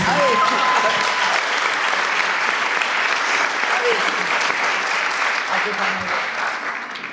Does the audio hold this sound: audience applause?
yes